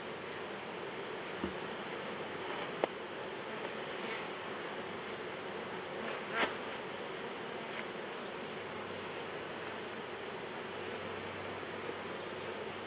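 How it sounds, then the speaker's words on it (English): A faint, steady buzz of many honeybees working around a hive fills the air, with occasional soft clicks and rustles nearby. "A lot of bees up here."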